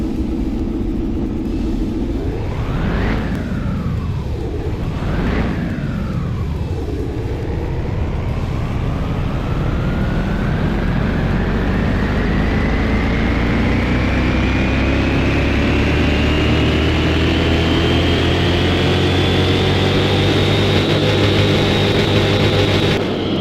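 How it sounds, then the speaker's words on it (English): A stock car engine on a dyno in Car Mechanic Simulator 2021 gives two sharp rev blips, then a long, loud, steadily climbing run up through the gears, droning on without a break. "Let's get it over the dyno."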